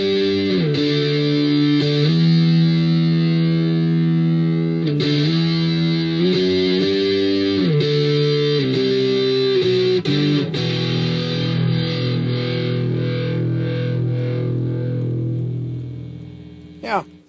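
A Squier electric guitar played through a distortion preset rings out loud sustained chords that shift every second or two, with sharp pick attacks, then a final chord decays slowly before a short noise at the end; no voices.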